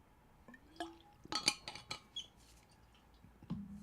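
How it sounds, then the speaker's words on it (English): Water spat onto a chair lands as a few scattered wet drips and small splashes, quiet and close, with a brief slurp near the end. "As a true fact, I spit water on my chair."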